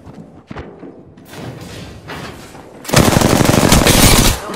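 Bursts of automatic gunfire from an Apex Legends match, starting as sparse distant shots and building into a loud, dense, continuous barrage in the second half, with thuds mixed in.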